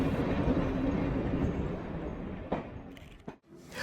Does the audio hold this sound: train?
yes